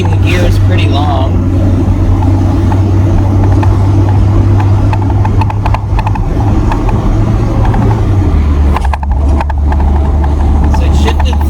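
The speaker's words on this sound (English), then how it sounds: "It held the gears longer, it shifted third" A car fitted with an A340 automatic transmission runs under load, its engine droning loud and steady before the pitch drops as the gearbox shifts, while people talk over it throughout.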